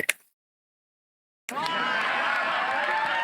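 A crowd cheering sound effect played from a soundboard bursts in after a short pause, a sustained wash of cheering and applause that holds steady at full volume to the end.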